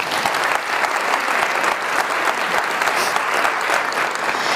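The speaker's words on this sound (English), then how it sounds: "So please, round of applause." Steady audience applause fills a breakfast-club event hall, dense and sustained with no break, loud and close throughout.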